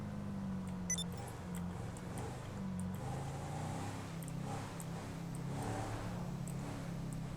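A Range Rover engine in GTA 5 drones steadily throughout on a mountain drive, a low continuous hum that rises slightly now and then, with no voices.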